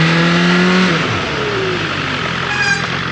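A BMW S1000R motorcycle engine revs loud and close, its pitch sliding down as it passes, then settling into a steady roar with a fainter rising whine toward the end.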